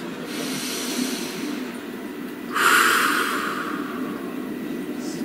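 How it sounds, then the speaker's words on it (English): A slow, deep breath, heard as a soft, steady airy hiss that swells midway through and then eases, alone over a constant low background hum. "Please take a nice deep breath"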